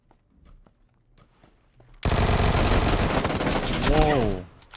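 Gunfire in the video game PUBG starts suddenly after a quiet opening of faint footsteps and bursts into a loud, rapid, sustained spray of shots, and a voice cuts in briefly near the end.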